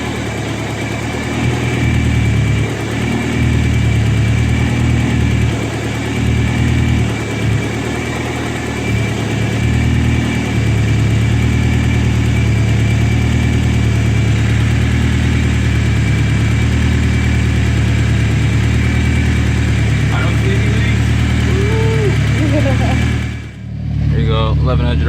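BMW E30 with a turbocharged M42 engine idling steadily and loud for about 23 seconds with slight rises in revs, and the engine note cuts off near the end.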